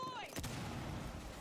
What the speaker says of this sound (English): And just a shredding of gunfire.